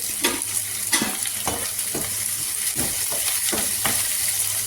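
Onion sizzling in a pan of hot oil with mustard seeds and dried red chillies, a loud continuous fry broken by regular scraping stir strokes about every half second, with no talking.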